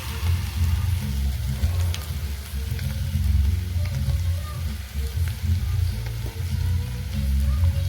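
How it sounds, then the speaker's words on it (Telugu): Onions fry for an Andhra-style bitter gourd stir-fry as a coconut, garlic and chili powder goes in, a loud, continuous close sizzle with a low rumble beneath. "ఉల్లిపాయ బాగా మగ్గింది, ఇంక ఇప్పుడు పొడి వేసేసుకుందాం"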